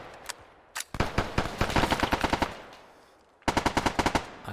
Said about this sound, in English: Oh, I'm taking some direct fire.